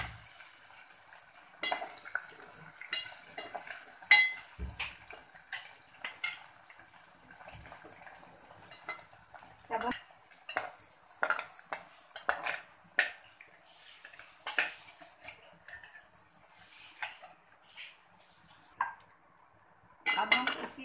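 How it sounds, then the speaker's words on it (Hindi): Cauliflower florets frying in oil while a metal spoon stirs and knocks against the pot, giving scattered clinks and scrapes over a faint sizzle. "इसको भी हम अच्छी तरह से सुर्ख होने तक फुलाने तक हिलाएंगे।"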